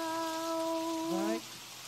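Rain falls as a steady, soft hiss under a held vocal note that bends and breaks off partway through.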